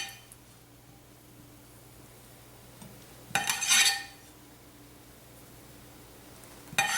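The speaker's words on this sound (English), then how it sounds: "I'm just going to take my knife and go ahead and" A knife cuts into the edges of a chilled cake, a quiet stretch broken by one sharp metallic clink and scrape, then another brief clink at the end.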